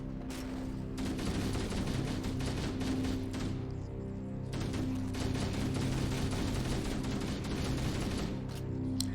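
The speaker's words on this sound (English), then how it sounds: "you just sort of pump your assault rifle here" Rapid sustained assault rifle fire in Halo on Legendary, aimed at infection forms, comes in two long bursts of fast crackling shots separated by a short pause, steady and dense under constant game ambience.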